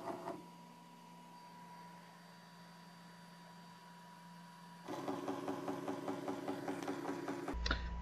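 A servo motor run by a Yaskawa drive homes with a faint electrical whine at first, then moves into a busier rhythmic mechanical whir with regular pulses before cutting off.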